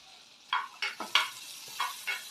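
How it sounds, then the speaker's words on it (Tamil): Garlic cloves sautéing in a pan as the base for a white sauce, with a soft steady sizzle broken by several short scraping stir strokes, close and fairly quiet, no talking. "பூண்டு நல்லா பச்சை வாசனை போகிற வரைக்கும் நல்லா வதக்கணும்"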